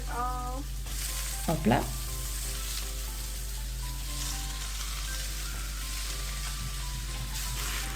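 Water-softened rice noodles for pad thai sizzle and fry steadily in a hot pan, a close, continuous crackling hiss with a brief stirring clatter, after a short spoken exclamation at the start.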